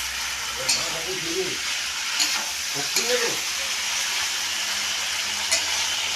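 Mutton fries slowly in a pan with a soft, steady sizzle and occasional stirring clinks; a voice murmurs faintly underneath at times.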